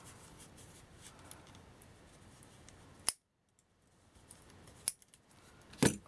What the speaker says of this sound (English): and then you're going to cut off the excess.